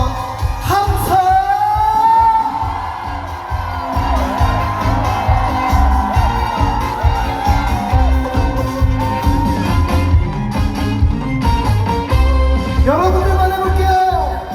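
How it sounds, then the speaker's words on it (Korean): A festival crowd at the Okcheon grape and peach festival cheers, whoops and shouts loudly and continuously over band music, a dense roar filling the whole stretch. "함성!"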